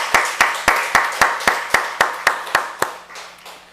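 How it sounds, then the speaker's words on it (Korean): Church congregation applauding, about eleven crisp, evenly spaced claps in a close, loud, steady rhythm that fade off at the end. "우리 박수로 축하해 주시고"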